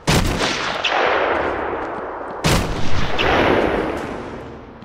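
Two heavy booming sniper shots in Batman: Arkham Asylum, each with a long echoing decay, loud and close, about two and a half seconds apart.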